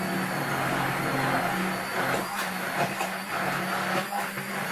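An electric hand mixer whips cream in a kitchen bowl, giving a steady close whirring hum with small shifts in pitch and loudness as the beaters move through it.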